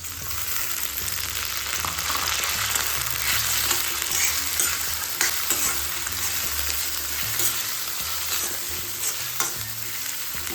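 Onion for prawn bhujane frying in a pan after asafoetida, a dense continuous sizzle filling the air with scattered stirring scrapes, close and steady throughout, with no voices.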